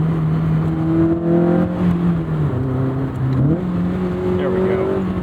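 Engine of a Honda S2000 AP1 pulling through the revs on a night drive, a steady rising drone that climbs in pitch, drops briefly at a shift, then climbs again, heard from inside the cabin.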